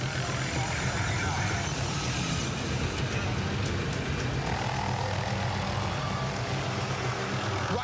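Loud, continuous rotor and engine roar of a nearby helicopter, droning steadily throughout with a faint voice beneath.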